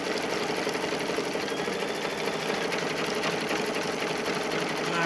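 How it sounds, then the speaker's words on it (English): Embroidery machine stitching around the edges of a zippered pouch held in the hoop, a fast steady needle clatter running continuously and close for the whole stretch with no talk. "And then it's going to stitch around, and because it's doing that, it's going to be stitching around the edges."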